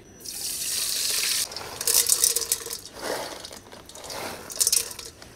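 Cooking oil pours into a pan for popcorn, a light splashing trickle in short bursts with brief pauses, close and fairly quiet.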